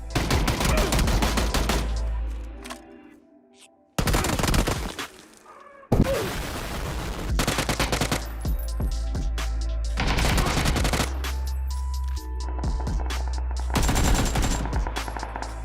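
Gunfire from the video game PUBG: loud bursts of rapid automatic fire and single shots, broken by brief pauses and near-silent gaps.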